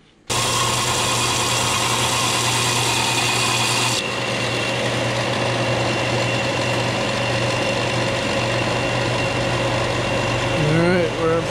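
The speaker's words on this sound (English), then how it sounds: "So we got a little bit more sand to do." Power sanding a bison horn knife handle, a steady loud grinding rasp with a constant motor hum running throughout, slightly changing in tone partway, with a brief squeal near the end.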